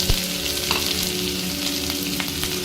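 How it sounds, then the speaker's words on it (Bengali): Chopped onion hits hot mustard oil with a loud, close, continuous sizzle and crackle, with a few stirring knocks, and no one speaks. "এবারে এর মধ্যে দিয়ে দিচ্ছি হচ্ছে পেঁয়াজ কুচি"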